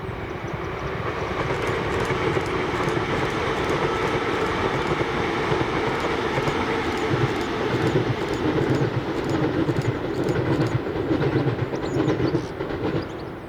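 A pair of ScotRail class 385 electric passenger units passes steadily at Motherwell Viaduct, a sustained loud rolling roar with rhythmic clickety-clack from the wheels over the rails, continuous throughout with no talk.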